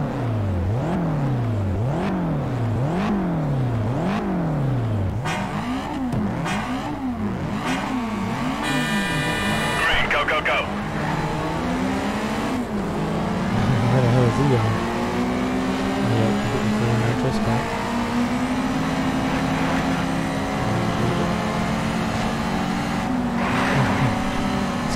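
Race car engines in Need for Speed Shift on Xbox 360 rev and shift loudly and continuously, rising and falling in pitch as gears change, with several cars roaring together close by.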